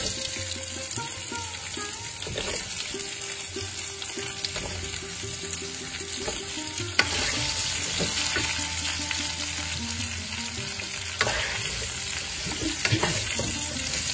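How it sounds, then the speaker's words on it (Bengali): Potatoes fry in plenty of hot white oil with fish head and whole spices, a continuous close sizzle and crackle, with occasional clinks of a utensil stirring the pan. "আলুটা ভাজা হোক, আমি একটু ঢাকা দিয়ে দেবো"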